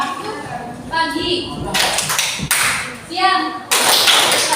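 Classroom of students clapping hands on a teacher's spoken cues, a few loud bursts of group claps alternating with the teacher's voice, close and lively.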